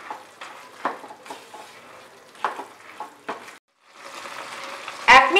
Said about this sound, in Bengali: এবারে আমি হাই ফ্লেমে এই বোঁদেগুলোকে শিরার মধ্যে দিয়ে রান্না করব 1 মিনিট।